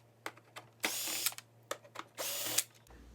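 Power driver fitted with a 7mm bit backs out screws: several short clicks and two longer whirring bursts of spinning, close and fairly quiet, over a faint steady hum.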